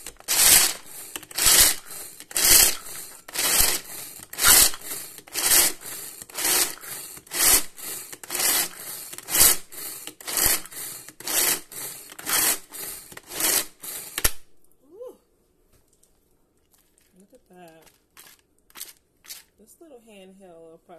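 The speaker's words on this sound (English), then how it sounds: "Handheld processor works just fine right now." A handheld food processor chops nuts in a fast run of rhythmic whirring pulses lasting about fourteen seconds, then stops, leaving a quiet room where someone talks.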